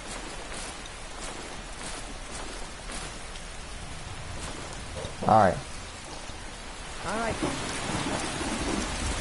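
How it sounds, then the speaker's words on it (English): Steady heavy rain in Skyrim pours throughout, with a low rumble of thunder; a voice briefly speaks midway and the downpour swells louder near the end. "The rain is so loud."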